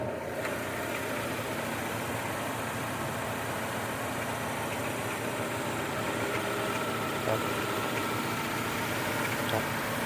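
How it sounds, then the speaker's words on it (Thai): A 2008 Chevrolet Optra 1.6 engine idles steadily nearby, a low, even hum with no revving, and someone talks over it. "อันนี้คือเสียงเครื่องยนต์นะครับ"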